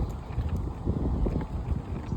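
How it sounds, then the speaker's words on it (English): Strong gusty wind buffets a microphone outdoors on a cloudy, very windy day, a loud continuous low rumble with uneven surges throughout. "apologies for the wind"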